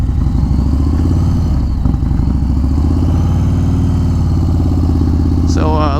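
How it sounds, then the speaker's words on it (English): A 2021 Harley-Davidson Street Bob 114 motorcycle is ridden, its engine a loud, close, steady rumble throughout, with a person talking over it. "this is the first time I've ridden this Harley Davidson"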